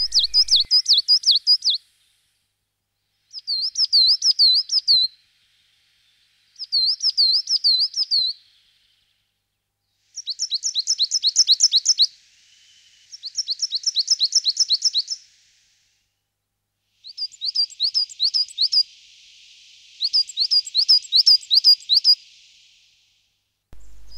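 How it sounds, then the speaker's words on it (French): A coal tit sings in a mountain forest, with repeated bursts of thin, high, rhythmic two-note phrases separated by short pauses, clear and fairly close against a quiet background. "Dans les forêts d'altitude, la mésange noire."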